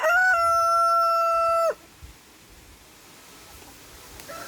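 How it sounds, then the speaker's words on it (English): A rooster crows once, loud and close, in a long sustained call that cuts off abruptly and leaves quiet outdoor background. "that was Red Rooster"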